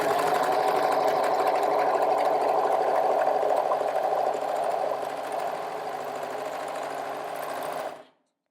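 Serger sewing machine stitching and trimming fabric as the pedal is pressed, a loud continuous fast whirring hum that eases slightly midway, then stops abruptly near the end.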